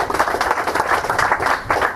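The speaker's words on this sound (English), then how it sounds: "How about a round of applause for Twisted Fire?" An audience at a disc golf clinic applauds, a steady wash of many hands clapping that swells and dips in waves over a couple of seconds.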